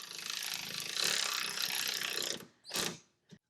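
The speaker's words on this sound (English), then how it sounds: "Now let's take our ratchet and just tighten these up." A hand ratchet clicks rapidly and steadily as it tightens bolts on a golf cart rear differential, followed by a brief pause, one short burst of clicks, and a final single click, close and alone.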